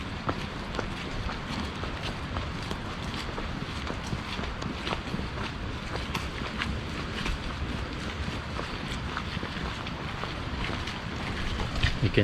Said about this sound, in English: You can hear the river.